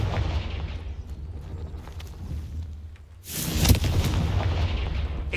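Confringo blasting spell in Hogwarts Legacy erupting into a sudden loud, broad explosion partway through, following a rumbling low combat background, the blast's roar then lingering and sustained.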